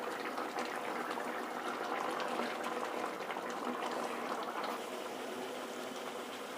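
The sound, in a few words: chicken gravy boiling in an open pot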